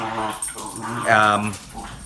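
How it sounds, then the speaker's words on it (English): Dogs at play make whimpering, growly vocal noises close by, broken into short bursts, with a person talking at the same time. "if you're hearing any panting or fluttering or anything like that, that's my dogs playing right now"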